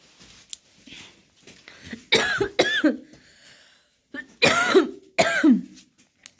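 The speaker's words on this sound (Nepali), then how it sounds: "खोकी जाती भएको छैन गाइज मेरो" A person coughs in several harsh, heavy bursts, two pairs of loud coughs close to the microphone, with quiet breathing and murmurs between them.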